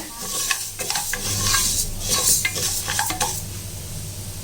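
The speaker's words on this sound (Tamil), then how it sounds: "நம்ம தீ குறைவாக வச்சு கொஞ்சம் லைட்டாக நம்ம வறுத்துக்கலாம் இந்த பாசிப்பருப்பு நல்லா கொஞ்சம் வறுபடட்டும்" A spoon stirs moong dal being dry roasted in a pan over low heat, a steady dry rustling and scraping with light sizzle and a few metallic taps, close and continuous.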